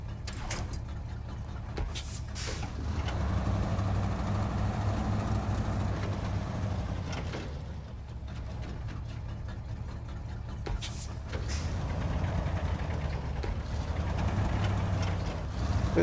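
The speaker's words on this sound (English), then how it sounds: "This thing's a whole lot quicker with that new engine." Ford F750 truck with a new engine driving along, a steady low drone that swells and dips over time, with clattering bumps, moderately quiet and without speech.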